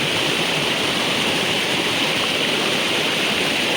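Water rushes steadily through a village irrigation canal in Sangulwadi, Konkan, a loud, close, unbroken broadband flow with no voices.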